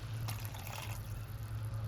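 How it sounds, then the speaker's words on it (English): Water is poured into hot oil with sautéed tomato in a pan, a steady close gushing and sizzling hiss with a low hum underneath, no talking. "Put a little bit of water."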